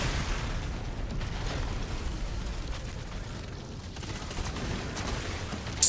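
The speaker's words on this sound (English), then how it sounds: "Explosions! It is a very satisfying gun to use." Gunfire and explosions from a video game form a dense, continuous crackle of bursts and pops at moderate level, with no clear separate shots and no talk.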